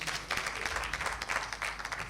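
Studio audience applause greets a talent show contestant as he is announced, a steady, even wash of clapping held throughout at moderate volume.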